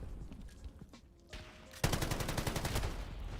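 A light machine gun in Modern Warfare 2019 fires a sustained rapid burst of loud, evenly spaced shots that starts abruptly after a quieter stretch of scattered game noise.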